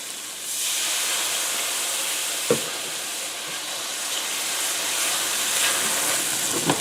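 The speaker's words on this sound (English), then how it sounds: "And we're going to deglaze it one more time." Wine poured into a hot pan of garlic butter for scallops sizzles and hisses steadily, with a few sharp pops and spatters breaking through the continuous frying noise.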